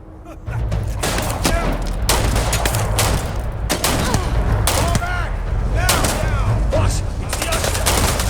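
Sustained rapid gunfire and repeated shots from a firefight in the video game Starfield, loud and dense throughout, with a battle score and occasional voices mixed underneath.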